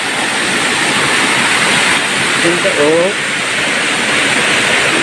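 Water crashes down at Tariris Falls in Paracale, Camarines Norte, a loud, steady roar of falling water close by, with a person talking briefly over it.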